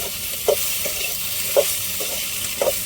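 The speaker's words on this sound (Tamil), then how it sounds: "லைட்டாக நம்ம எண்ணெய் ஊற்றி வெண்டைக்காயை வந்து நல்லா வதக்கிக்கிறோம்" Oil sizzles softly in a pan as okra is sautéed, with a few light stirring scrapes at regular intervals.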